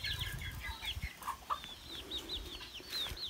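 A hen with her chicks clucks on a small farm, giving soft repeated clucks mixed with high, thin peeping from the chicks, with low rumbling and handling noise underneath.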